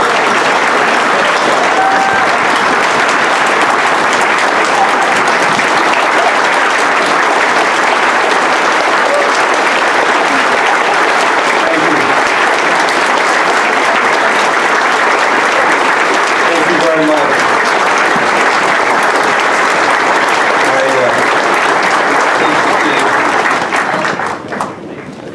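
A large reception audience for the New York City St. Patrick's Day Parade gives Senator George Mitchell sustained, loud, dense applause lasting over twenty seconds before it tapers off at the end.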